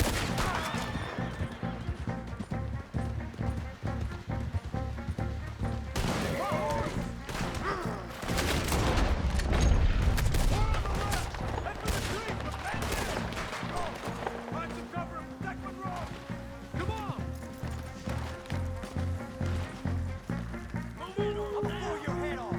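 A volley of gunfire erupts in a frontier shootout in Red Dead Redemption 2, with scattered shots mixed among horses whinnying, hooves clattering and characters shouting over the chaos.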